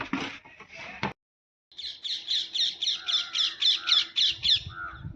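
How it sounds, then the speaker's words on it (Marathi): A bird calls outdoors with a run of about nine harsh, evenly spaced squawks like a crow's, loud and close, after a short burst of rustling noise and a brief silence. "पक्षी कुठे चिवचिव करते."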